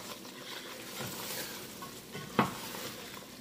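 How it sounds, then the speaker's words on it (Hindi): Chicken frying with chilli and turmeric in a karahi, a steady soft sizzle with stirring scrapes and one sharp clink of a utensil near the end, close and alone. "इसको थोड़ा सा भून लेते हैं ताकि मिर्च और हल्दी का कच्चापन थोड़ा दूर हो जाए।"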